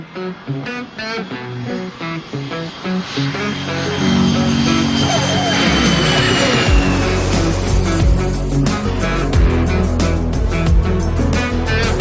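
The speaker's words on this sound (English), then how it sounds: "Onyx 1-2 Mike Oscar, runway 27, clear for takeoff." A propeller airplane runs its engine up and rolls for takeoff from runway 27, a loud, close, steady drone that rises and thickens partway through.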